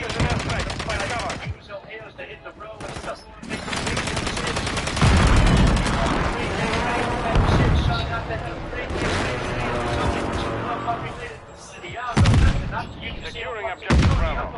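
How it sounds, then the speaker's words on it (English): Loud explosions and heavy gunfire from a precision airstrike in a Call of Duty match, booming blasts rolling through a busy firefight, with voices talking throughout. "Enemy precision airstrike."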